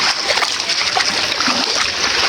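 Floodwater rushing hard through a flooded village, a steady loud wash of splashing and churning water that fills the whole stretch without pause.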